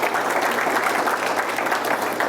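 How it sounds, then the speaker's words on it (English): Brisk, dense clapping from an audience at a school district's State of the Schools gathering, steady and fairly close, with no talking over it. "Can we give them a round of applause,"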